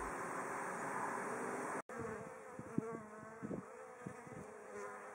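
A steady, droning buzz of many honeybees close by at a hive in February, with occasional louder passes as individual bees fly near.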